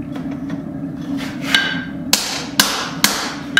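A hammer strikes hot steel while a hatchet's shoulder is shaped at the forge: light taps at first, then four sharp ringing blows spaced about half a second apart, close and clear with no talk.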